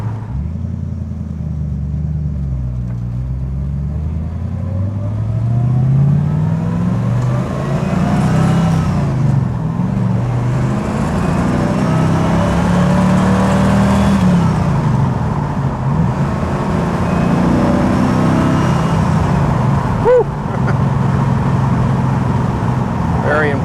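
A 1967 Ford Mustang 390 GT Fastback engine rumbles and revs in long, rising and falling swells, close and loud, with some background voices.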